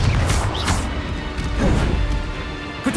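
A Confringo fire blast spell strikes in the wizarding action game Hogwarts Legacy, producing loud, close crashing impacts with whooshing bursts over a dense rumbling background.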